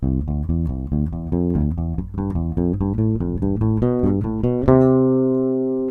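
A keyboard plays a rapid scale in repetitive thirds in a steady, even rhythm, moving in repeating paired steps, then rings out on a final sustained chord.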